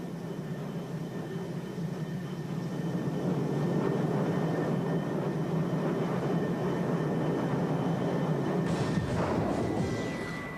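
Jet aircraft on an aircraft carrier flight deck, planes taking off, landing and taxiing: a loud, steady roar of turbine noise throughout, with a harsher hissing surge near the end.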